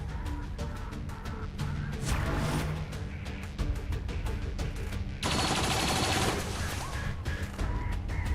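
Gunfire from the video game XCOM 2 fires as loud, dense overwatch bursts that run almost without a break, with a heavier blast near the end and no talk.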